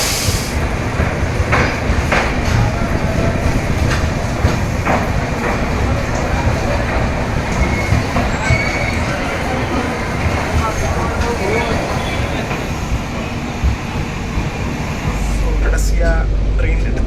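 A Yesvantpur to Chennai train travelling at night gives a steady, close rolling rumble and rhythmic rail clatter inside the carriage, continuous throughout, with muffled voices faintly underneath.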